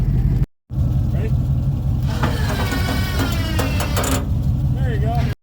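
A dead Ford F150 pickup idles in four low while pushing another vehicle toward a garage, a steady mid-pitched engine rumble running throughout after a brief cutout, with a voice calling out over it.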